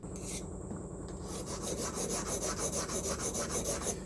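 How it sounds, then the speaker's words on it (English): A scriber is dragged across a 1-inch (25 mm) metal bar to mark a measurement for a bracket, making a steady, close scratching rasp with a faint rhythmic pulse that keeps going for a few seconds, with no voices. "I'm going to scribe in from the end a specific amount."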